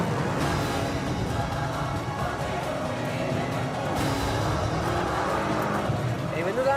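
A Manhart MH3 roars as it accelerates hard off the start line on a race track, its engine note loud and steady throughout, with voices talking over it.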